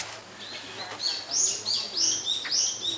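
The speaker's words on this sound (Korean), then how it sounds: "박새들 우는 소리" Great tits call nearby in a lively series of bright, high chirps and whistled notes, several birds overlapping outdoors in Dalseong Wetland.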